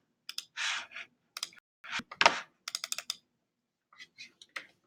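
Computer mouse clicks during editing in the Flodesk newsletter editor, a scattered series of close, sharp taps and clicks in short irregular clusters with quiet gaps between.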